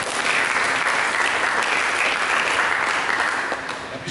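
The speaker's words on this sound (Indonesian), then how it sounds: "Berikan tepuk tangan." Steady, dense applause from a church congregation during a service, continuous and fairly loud throughout, thinning slightly near the end.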